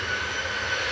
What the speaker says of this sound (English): So first up to go is EasyJet to Lyon with flight